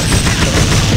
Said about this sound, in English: me and Harry are gunning these guys down